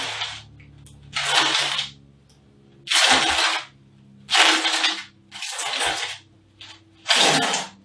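Sandblasted bricks being cranked along a surface in a friction demonstration lurch and slip in a series of sudden loud scraping bursts, about six of them, separated by quiet pauses with a faint low mechanical hum.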